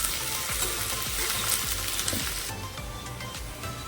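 Chopped onion sautéing in a pan until reddish-brown for a veg dum biryani gravy, a steady close sizzle with scraping stir strokes recurring about every half second, no voices.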